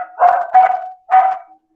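Dogs bark in the near background, three quick barks in a short burst, a brief pause, then another bark, fairly loud over an otherwise quiet room.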